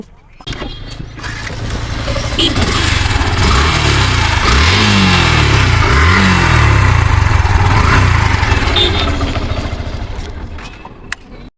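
A Yamaha FZS V2 motorcycle engine with about 4,000 km on it runs and revs steadily for several seconds, rising and falling in pitch, loud and close, with a person talking over it.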